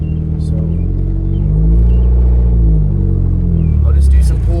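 A 400 hp Mazda Miata engine drones steadily from inside the car while driving, with a deep, loud rumble that swells a little midway. There is no talking over it.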